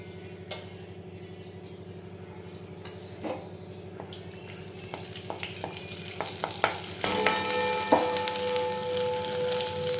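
Turmeric goes into hot oil in a pan for a spicy Kolhapuri mutton curry, starting with a low hum and scattered clinks, then rising into a soft crackling sizzle with stirring scrapes, no talk.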